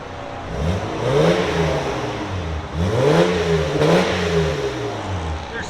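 A 1996 Toyota Land Cruiser's 4.5L inline-six revs repeatedly through a throaty Borla Pro XS exhaust with high-flow cats, rising and falling in several close, loud bursts.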